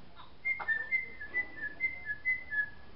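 A person whistles a short run of clear, bright notes in quick rising and falling phrases, close and alone against a quiet room, while a baby is coaxed into standing.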